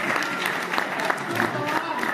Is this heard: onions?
no